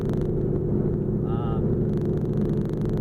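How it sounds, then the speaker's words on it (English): Steady, heavy engine rumble from inside a Volkswagen Jetta, loud and continuous throughout, with a brief tonal whine in the middle. "God, this car is really loud."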